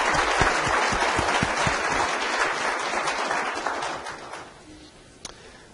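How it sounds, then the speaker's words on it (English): Steady applause from an audience at a city council meeting, a dense sustained clatter of clapping that tapers off and fades toward the end. "we should give him a round of applause"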